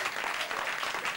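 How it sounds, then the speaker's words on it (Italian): Brief, dense burst of crowd applause for the Serafini friends, steady and fairly loud with no break. "Facciamo un applauso agli amici Serafini qua, va."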